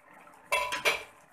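A metal pot lid lifted while hilsa curry with eggplant and potato cooks on high flame, giving two or three quick clanks and scrapes of lid against pot, close and fairly loud after a quiet start.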